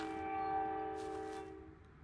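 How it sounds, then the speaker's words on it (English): A train passes a house with a loud, sustained horn blast that fades out over about two seconds, heard alone without talk. "There's a train going by my house and it is very, very loud"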